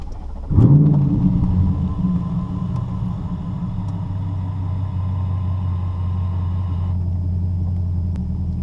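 A Chevrolet Corvette C8 with a Borla ATAK exhaust cold starts with a sharp bark and flare, then settles into a loud, deep, steady high idle that drops slightly lower after several seconds.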